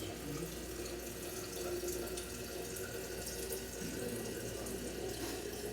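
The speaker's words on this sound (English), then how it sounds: "I'm just going to get some more water out of the cooler." Water runs from a water cooler spout into a container, a steady close splashing stream that continues unbroken for several seconds with no talking.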